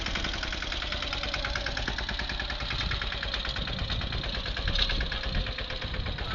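A Mahindra Yuvraj 215 tractor engine runs steadily in a field, ploughing with a new tine harrow over ground already tilled by a larger tractor. Close, continuous mid-pitched chugging with a rapid knocking pulse and no voices.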